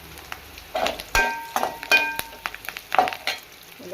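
Onions frying in a pan for a pumpkin stir-fry, a soft sizzle under a series of sharp utensil scrapes and clinks against the pan, close and fairly quiet, with no voices.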